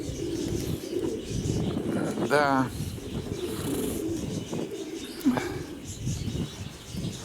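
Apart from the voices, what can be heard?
pigeons cooing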